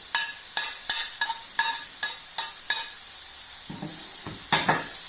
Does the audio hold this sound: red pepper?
yes